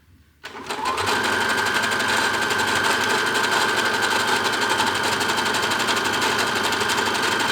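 A sewing machine starts up after a brief quiet moment and runs continuously at a fast, even stitching rate while sewing a zigzag buttonhole, loud and close with no voices.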